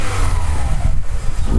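A VW Polo Mk5 1.4 fitted with a performance air filter revs hard toward 4,000 rpm, a loud, close, sustained engine roar with a rising pitch.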